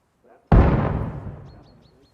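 A frag grenade in Arma Reforger goes off with one sudden, heavy, close blast that rumbles and fades over about a second and a half, after a faint murmur and followed by small chirping sounds.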